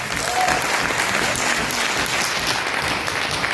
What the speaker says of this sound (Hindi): जबरदस्त सर के लिए जोरदार तालियां।